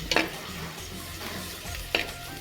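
Onion sautéing in a pan with crushed ginger and garlic added, a soft continuous sizzle broken by a few sharp scrapes and clinks of stirring.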